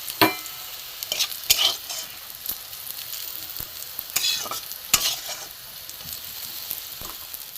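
Bitter gourd frying in a pan with a soft background sizzle, broken by several sharp scrapes and clinks as a utensil stirs the pieces.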